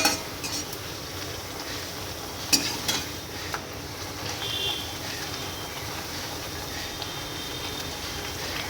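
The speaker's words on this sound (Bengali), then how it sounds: "তেলও গরম হয়ে গেছে এবার একে একটা লুচিগুলো ভেজে নেব" Luchi flatbread frying in hot oil, a steady soft sizzle with a faint hiss and occasional light clinks of a utensil, heard alone without speech.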